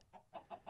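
A chicken in modded Minecraft gives three quick, soft clucks in rapid succession, faint and brief.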